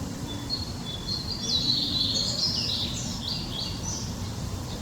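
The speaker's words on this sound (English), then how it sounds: "Not show you the birds, but let you hear the birds." Small birds chirp and tweet in bursts outside an apartment balcony, moderately close and alone over a steady background hum, with no talking.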